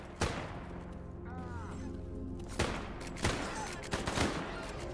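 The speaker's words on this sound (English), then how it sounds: "What are we shooting at?" Video game gunfire erupts in several sharp bursts, a loud shot near the start and more cracks later, over a constant din of combat noise; a voice talks now and then.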